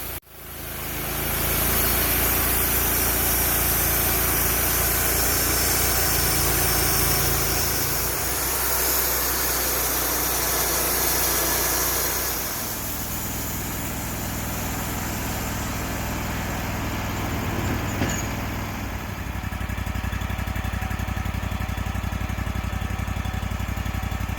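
A sawmill engine runs steadily and loudly while slicing oversized logs into 3.5 by 3.5 inch blanks, a continuous droning roar with shifting load throughout and no talking.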